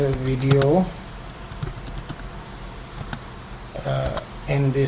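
Quick, close clicks of typing on a computer keyboard come between stretches of someone speaking, with a brief pause in the keystrokes toward the middle.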